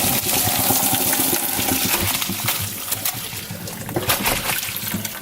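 Cooking liquid pours out of a pot of turnip and mustard greens, a continuous splashing trickle with clinks and knocks against the pot, loud and close, no talk.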